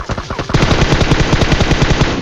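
Rapid automatic gunfire in a mobile shooter game, sustained bursts with short even repeats, loud and close, with fire also coming from behind.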